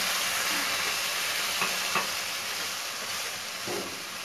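Coconut ladoo mixture with milk being stirred in a pan on the stove, a steady soft sizzle and hiss with a few faint scrapes of the spoon, close by and fairly quiet.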